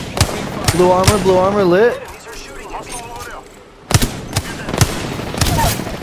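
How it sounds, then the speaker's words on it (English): Gunfire in Apex Legends, several sharp cracking shots spread across the span, some loud and close, with a spoken game announcement and a quiet gap between the bursts. "Someone's shooting at me."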